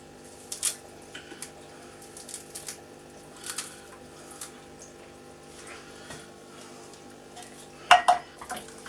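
A spoon stirring fresh parsley into a chopped mushroom and bacon stuffing in a bowl, giving soft scraping with occasional clinks and a louder clatter near the end.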